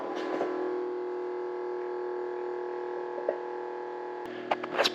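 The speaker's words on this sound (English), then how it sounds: "See if you can hear the pump." A water pump hums in a cistern on an off-grid homestead, a quiet, steady electrical drone with a few faint clicks and knocks near the end.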